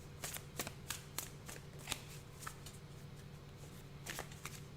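A Beautiful Creatures tarot deck is shuffled by hand, giving a series of soft, quick riffling card slaps at an uneven rhythm, close and quiet.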